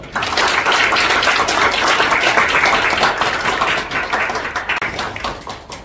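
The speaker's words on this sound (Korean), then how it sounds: "정책 포럼을 여러분들의 힘찬 박수로 시작하겠습니다" At the start of a district education policy forum, an audience claps loudly and steadily for several seconds before the applause gradually fades.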